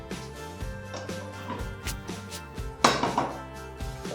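Cumin, garam masala and chilli powder being stirred together in a bowl, with repeated soft scraping and clinking of a spoon against the dish and a sharper knock near the end, close and fairly quiet with no talk.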